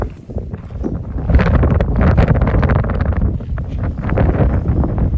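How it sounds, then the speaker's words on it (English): Strong wind blowing outdoors in the desert at a ghost town near Death Valley, Nevada, a loud continuous buffeting roar against the microphone throughout. "Wind alert."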